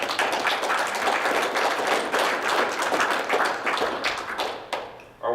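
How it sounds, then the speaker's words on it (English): An audience at a 2015 division meeting breaks into sustained applause, dense clapping that carries steadily for about five seconds before thinning out near the end. "So give yourselves a round of applause."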